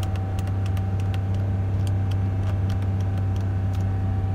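A 2019 Ram 1500 pickup's engine idles steadily while stuck in first gear, a continuous low hum with a faint whine, close and unbroken throughout.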